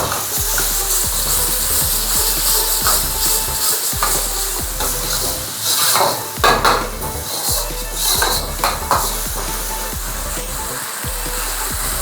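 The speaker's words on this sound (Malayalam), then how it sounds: "വെളുത്തുള്ളി പേസ്റ്റ്, ടൊമാറ്റോ, അതേപോലെ ഓണിയനും നല്ലപോലെ സോട്ടായി വരുന്നുണ്ട്" Garlic paste, tomato and onion sautéing in a pan for chana masala: steady sizzling and frying hiss throughout, punctuated by frequent metallic scrapes and clanks of a spoon stirring against the pan, close and fairly loud.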